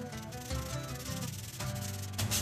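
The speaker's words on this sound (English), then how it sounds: "So I'm gonna scuff up all the trim pieces." Truck headliner trim pieces being scuffed by hand before painting, a steady close rasping rub with short strokes repeating for a couple of seconds, with no talking.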